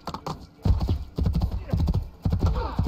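Horse hooves clip-clopping rapidly at a gallop in the video game Assassin's Creed II, loud close bursts of hoofbeats with short gaps, under faint background voices.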